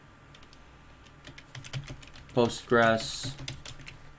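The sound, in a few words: typing on a computer keyboard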